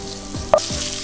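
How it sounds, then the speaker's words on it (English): Guanciale fries slowly in a pan over medium heat, a steady close sizzle throughout with one brief sharper crackle in the middle, no voices. "we're gonna cook this guanciale very, very slowly so that all of this nice fat comes out"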